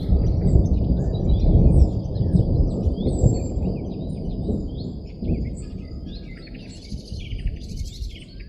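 Thunder rumbles low and heavy through a humid summer storm outdoors, fading over several seconds, while birds chirp thinly in the background; no one speaks.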